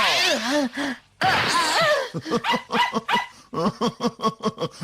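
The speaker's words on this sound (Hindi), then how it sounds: "ये मेरा प्यारा डॉगी है।" A cartoon dog barks and yips in quick rhythmic bursts, loud and close, after a brief whining opening.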